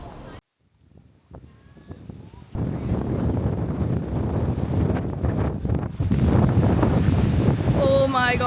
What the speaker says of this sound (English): it's so windy here today